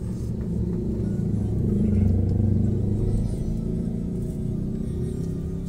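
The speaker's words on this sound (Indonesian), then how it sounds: "Ada mobil kok ramai ini." Car passing on a road near a hospital, a loud low rumble that swells around the middle and then settles into a steady engine drone.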